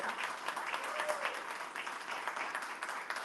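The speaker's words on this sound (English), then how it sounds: "So I want everyone to give Anne-Marie like a big hand of applause" An audience at a networking event gives a short burst of applause, with dense, moderately loud clapping from a small crowd in a room.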